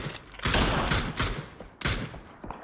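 Bursts of gunfire in a multiplayer shooter video game, several loud volleys separated by short pauses, close and punchy with no talk over them.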